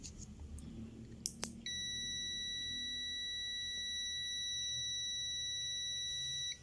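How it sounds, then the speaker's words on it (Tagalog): After a couple of small clicks, a multimeter continuity test gives a steady high-pitched electronic beep for about five seconds while probing switch pins, then stops. "then push the button to get a beep"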